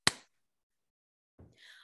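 A single sharp hand clap, loud and abrupt with a short decay, followed by brief quiet and a faint rustle.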